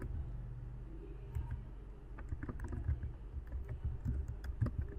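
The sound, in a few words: typing text on a computer keyboard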